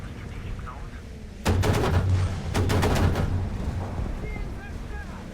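In the War Thunder video game, a vehicle's gun fires two rapid bursts of loud, close, rattling shots over a constant engine and wind rumble, with a quieter stretch between them.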